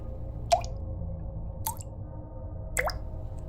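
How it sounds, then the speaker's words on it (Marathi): Three separate drops fall from a leaking roof at irregular intervals, each a sharp plop with a brief upward ringing tail, over a quiet low hum. "जणू काहीतरी घरात गळत होतं पावसाळा संपला तरी छप्पर परगळते"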